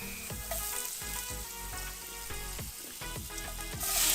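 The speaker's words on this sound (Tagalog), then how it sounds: "On a hot pan, ayan, naglagay lang po ako ng butter." Butter sizzles in a hot pan as a steady, close hiss, partly under rhythmic background music throughout.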